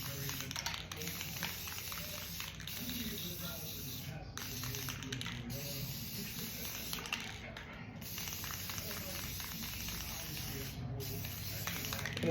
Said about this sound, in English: So the first thing I'm going to do is spray paint my tumbler.